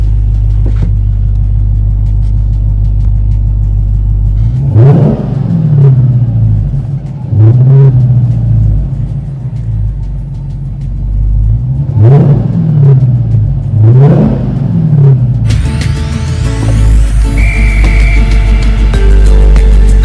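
From inside a Dodge Demon, a low steady engine drone is punctuated by four or five sharp revs that swell and fall back, loud and close.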